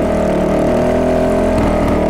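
Fantic 450 Rally single-cylinder motorcycle engine running loud and close, a harsh steady thrum with rough pulsing exhaust, as if the exhaust manifold has come loose.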